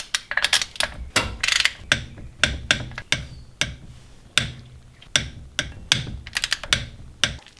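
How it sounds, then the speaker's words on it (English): Sharp clicking bursts from a torque wrench tightening the six CV axle nuts on a Lexus LX470, the clicks coming in spaced clusters, close and clear with no talking. "The torque spec for these 6 nuts is 24 foot-pounds."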